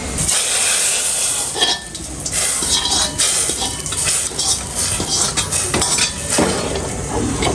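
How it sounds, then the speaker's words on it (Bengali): Matar dal tempered with browned garlic in a pan: loud, close sizzling mixed with repeated clinking and scraping of a metal spoon against the pot. "এখন যে চুলার ডালটা এখন মটর ডালটা বাগার দিয়ে দিব।"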